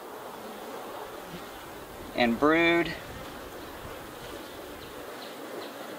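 Honey bees at a hive split with a nursed queen cell, a faint steady buzzing throughout, broken by a brief spoken word near the middle.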